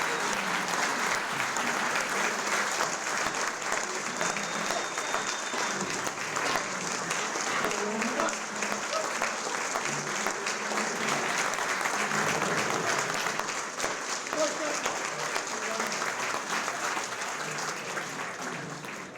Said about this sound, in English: Can we get all the class of 2022 to stand up for one more applause?